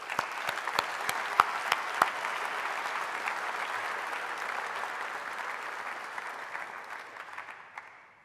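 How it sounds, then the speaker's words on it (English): An audience applauds at a conference closing ceremony, starting with a few sharp individual claps and then settling into an even, moderately distant wash of clapping that slowly fades out. "Give her a big applause."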